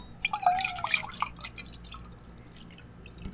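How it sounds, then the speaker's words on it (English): Milk poured into a glass in a quiet room, with bright trickling and dripping liquid sounds up close that soon taper off into faint drips. "Let me pour out a nice glass of milk."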